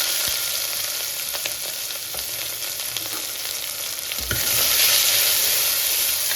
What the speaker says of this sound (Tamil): இப்போ நம்ம கட் பண்ணி வச்சுக்க சின்ன வெங்காயமும் பூண்டும் சேர்த்துக்கலாம்.